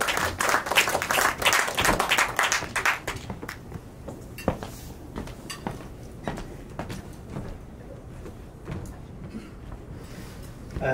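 Applause for Councillor Kuldev Sehra at an award show, a burst of scattered hand claps that is loud at first, then thins over several seconds into a few sparse, fading claps.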